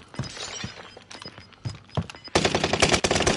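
Gunfire crackles in a multiplayer shooter video game, with scattered sharp shots and impacts at first, then a dense, loud burst of rapid fire near the end.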